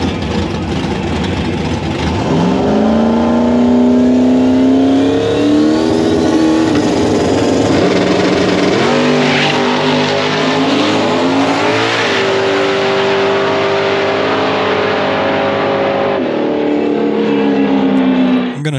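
A drag race car launches and pulls hard down the track on a record pass, its engine screaming loud and steady with rising pitch through each gear change, no voices over it.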